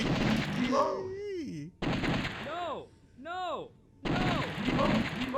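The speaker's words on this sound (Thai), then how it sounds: "เดี๋ยวเราจะไปยิงมันตอนบนหลังคา" Gunfire in the arcade shooter The House of the Dead comes as bursts of sharp noise, broken by short gaps, mixed with swooping, warbling in-game voices and effects.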